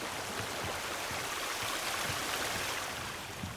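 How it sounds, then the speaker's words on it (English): Waterfall in the Sons of the Forest video game, a steady broadband rush of falling water that stays constant and fairly close for the whole stretch, with no voices over it. "I don't remember this waterfall."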